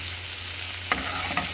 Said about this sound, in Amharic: ረጅም የተቆረጠ ቀይ ሽንኩርት እየጠበስኩ ነው።